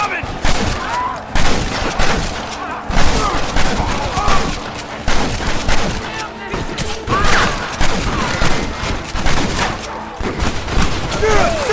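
Heavy gunfire rattles through a village shootout in the video game Red Dead Redemption, with dense rapid bursts and sharp cracks close by. Voices shout over the shots throughout.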